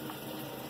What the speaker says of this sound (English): see the water coming out and then flow through the side and the middle